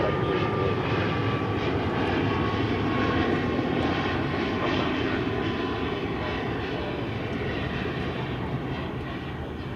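Jet airliner engines roar at DFW Airport as a plane departs, a loud, sustained broadband rumble and whine that holds steady for the whole stretch, heard from a plane-spotting position with no talking.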